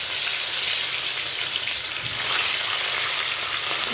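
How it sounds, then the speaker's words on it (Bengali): Fish drops into hot oil in a wok and fries with a loud, continuous, close sizzling hiss that holds steady throughout, with no voices. "তেলটা গরম হয়ে গেছে, আমি মাছগুলো দিয়ে দেবো।"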